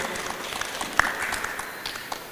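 An audience applauds a chamber's directors at a business gathering, a continuous wash of clapping at moderate distance with one brief louder accent partway through.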